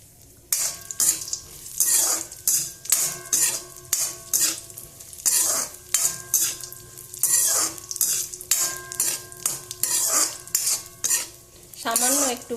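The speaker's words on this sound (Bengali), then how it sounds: "কড়াইতে 2 চামচের মতন ঘি দিয়ে দিয়েছি, আর এই কাজু বাদাম আর কিশমিশটা দিয়ে দেব" Cashews and raisins frying in ghee in a kadai on low heat, with repeated rhythmic scraping and clinking of a spatula over a soft sizzle, close and busy throughout.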